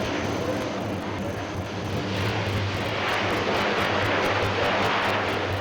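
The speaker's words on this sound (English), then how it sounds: "the complete renovation of its 1950s design will see the Hercules flying well into the next millennium" A Lockheed C-130J Hercules, a modernised version of a 1950s design, flies past at the Farnborough International airshow. Its propeller engines give a loud, steady roar with a faint rhythmic beating, and no one speaks.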